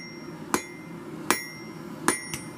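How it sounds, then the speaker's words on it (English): Four sharp metallic hammer blows on hot steel at an anvil during forging, irregularly spaced with a quiet ringing gap between strikes, close and loud against a low background hum. "let me stop hammering for a second"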